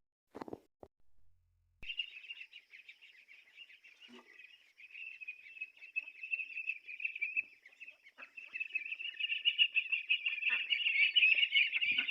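Ducks and ducklings on a village duck farm quack and honk in a continuous, close chorus that starts after a brief knock and grows louder and busier toward the end, with no talking.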